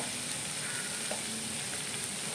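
Modak fish curry sautés in a pan with an even, continuous sizzle at moderate volume, close and unbroken, with no voices.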